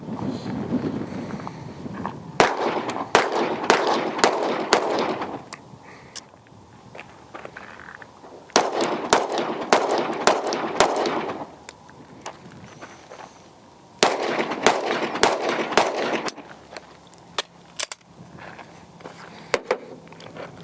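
Pistol gunshots at a shooting test comparing a bare pistol, one with an X300 light, and one with a thumb rest: sharp, loud rapid strings of shots in three bursts, each followed by a short pause.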